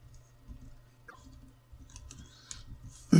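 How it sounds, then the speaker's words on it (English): A laptop keyboard is pressed into place during reassembly after a broken-screen repair, giving soft scattered clicks and taps close by, ending in a louder thump. "Place the keyboard, focusing at the front first."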